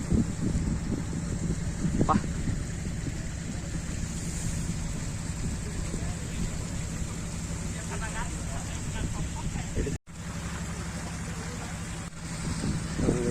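A speed boat crossing Ha Long Bay in Vietnam, its steady engine drone mixed with rushing water, surf and wind buffeting the microphone, loud and continuous with a brief dropout near the end.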